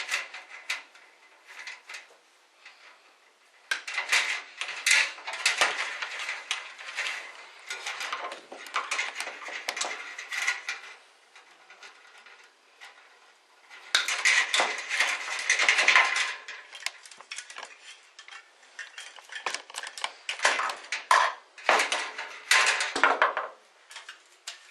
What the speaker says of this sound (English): And we will then unscrew the ballast from the casing of the fixture.